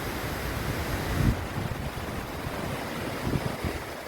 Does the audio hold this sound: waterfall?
yes